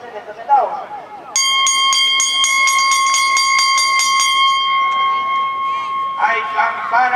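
A loud electric bell rings continuously for about five seconds at the start of a horse race, its steady metallic clang cutting in sharply after brief announcer talk and fading as the talk resumes.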